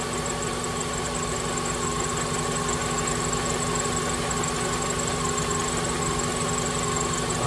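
A car engine idles steadily at about 700 RPM during a cylinder balance test, giving a constant, even rumble with a faint hum and no voices.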